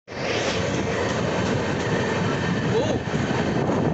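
The Mussoorie Express rolls on rails between Delhi and Haridwar as a loud, steady rumble heard from inside the moving train, with constant wheel and carriage noise filling the whole stretch.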